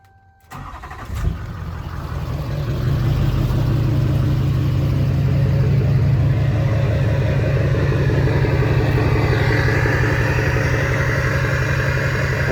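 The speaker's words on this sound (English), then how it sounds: "But I'll give y'all a little turbo ASMR," A Duramax diesel truck engine with a turbo cranks and fires up, then settles into a loud, steady, close diesel rumble as a rising turbo whine builds over it, with no talking.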